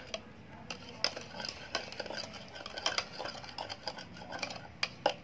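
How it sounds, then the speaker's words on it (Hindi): A spoon stirs instant Maggi noodles in a bowl, giving a run of quick, close clinks and scrapes at an uneven rhythm, with no voices. "और अब हम लेंगे स्पून और हम इसे अच्छी तरीके से मिक्स करेंगे।"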